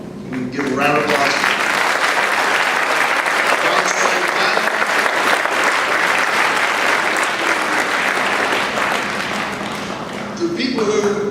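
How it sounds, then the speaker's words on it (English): An audience at a blue ribbon school ceremony applauds the secretarial staff, dense steady clapping that swells quickly and holds loud and even for about ten seconds before tapering, with a voice resuming at the end. "So, Amber, Natalie, Jen, Dawn, we can give a round of applause."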